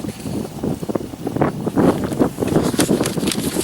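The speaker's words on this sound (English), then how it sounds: "it's really windy out here" Gusty wind buffets the microphone in uneven rumbling bursts, loud and close, with no voices heard.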